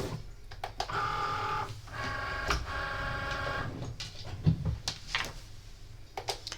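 A Cricut machine scores paper with a double scoring wheel, whirring motor passes and mechanical clicks and thuds in a repeating back-and-forth pattern, close and fairly quiet.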